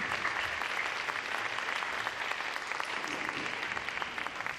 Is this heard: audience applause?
yes